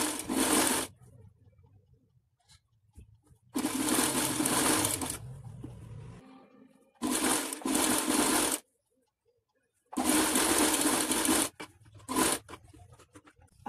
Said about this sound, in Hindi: अब हम इसकी सिलाई करेंगे।